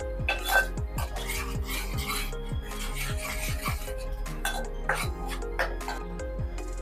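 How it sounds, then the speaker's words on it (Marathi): Tomato puree being sautéed and mixed in a pan over medium gas, heard as repeated metal spoon scrapes and clinks against the pan in a steady rhythm over a low hum, close and moderately loud. "मीडियम गॅसवरती टोमॅटोची प्युरी 2 मिनिटांसाठी चांगली मिक्स करून परतून घेणार आहे"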